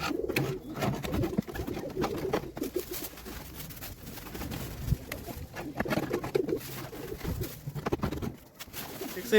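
Desi red golla pigeons coo in soft, repeated low calls, close by amid a light background murmur.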